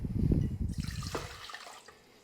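Warm water poured from a container into a mixing bowl for bread dough made with sprouted wheat flour, a short gurgling splash that starts full and tapers off within about two seconds.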